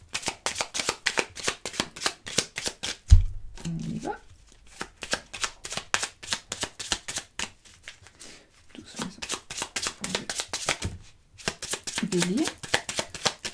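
Tarot cards being handled and shuffled, a steady run of fast, close riffling flicks that stops briefly twice, with soft speech in between.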